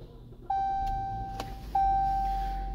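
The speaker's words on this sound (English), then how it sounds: "I'm gonna plug in this key here, turn this vehicle on." A 2016 Jeep Cherokee Trailhawk switched on with its key gives two sustained electronic chime tones in a row, with a low vehicle hum rising underneath, heard close inside the cabin.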